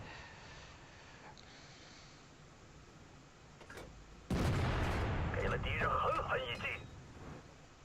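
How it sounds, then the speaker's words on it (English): HE shells fired from a tank cannon in World of Tanks, aimed at a WZ-111 heavy tank, come as one loud, booming blast that rolls on for about three seconds under a faint, quiet background. "so I continue to shoot HE at it"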